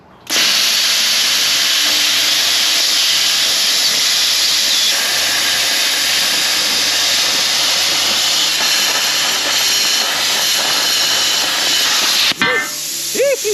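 A DP plasma cutter slicing through truck metal, a loud, steady, harsh hiss with a high whine that runs continuously for about twelve seconds before cutting off abruptly.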